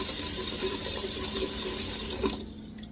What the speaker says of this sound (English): we're gonna get ready to put our water in our pot to steam our vegetables.